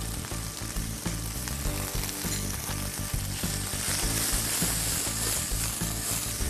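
Chicken pieces sizzle and fry in a pan at a restaurant cooking station, a loud, continuous crackle with occasional stirring knocks and no speech.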